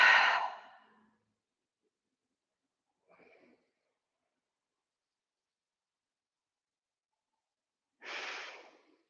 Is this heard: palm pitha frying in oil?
no